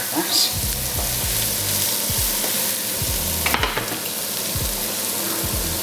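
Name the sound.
garlic frying in a pan for risotto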